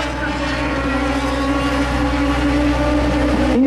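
A Radical SR3 race car runs on a circuit in wet and semi-dry conditions, its engine a loud, sustained, high buzzing drone that holds steady and rises slightly at the end, with faint talk underneath.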